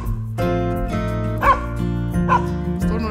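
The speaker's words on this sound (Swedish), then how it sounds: "en flock hundar som springer efter oss" A pack of dogs barks repeatedly in open countryside, several yips and whimpers overlapping in a steady chorus at moderate distance, with a low engine drone underneath.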